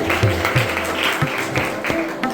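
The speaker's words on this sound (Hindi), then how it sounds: "जोरदार तालियों से स्वागत करें।" Continuous applause from a crowd welcoming a teacher receiving his ID card at a school Teachers Day ceremony, dense and steady with a voice faintly audible underneath.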